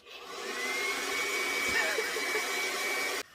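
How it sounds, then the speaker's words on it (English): A handheld blow dryer runs steadily on latex special-effects makeup, a loud continuous whooshing hum lasting about three seconds before cutting off abruptly. "You can get the blow dryer."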